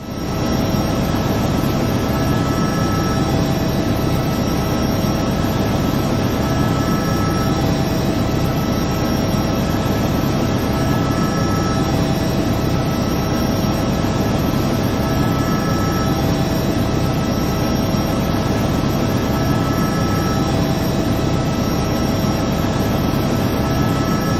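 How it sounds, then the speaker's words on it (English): A light aircraft that has lost power flies low over houses while searching for a place to land. A loud, steady engine roar and rushing wash hold unbroken through the whole stretch, with no talk. "a light aircraft loses power, and the pilot skims low over houses, searching for a place to put down"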